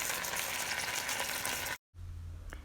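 Diced bacon sizzles in a pan, a steady dense crackle for almost two seconds before it cuts off abruptly. A brief, quieter low hum follows.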